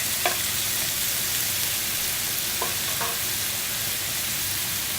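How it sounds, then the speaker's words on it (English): Mushrooms frying in a pan deglazed with a splash of white wine, a steady broadband sizzle that holds even throughout, with a few faint clicks and stirs as the food is moved. "Just a touch of white wine, and then in go the mushrooms."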